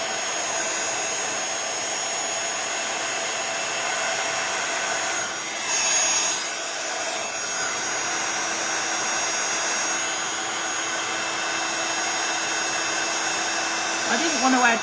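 A heat tool blows steadily over freshly painted stencil background paint, a loud continuous hot-air roar that holds for about fifteen seconds with slight shifts in tone and no speech.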